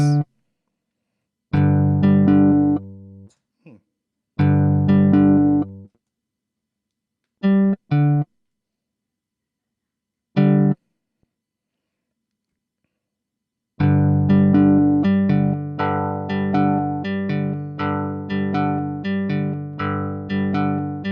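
Synth arpeggio of a MIDI chord with an extra G octave in Ableton Live, first in short broken phrases, then a steady run of quick repeating notes that carries on to the end.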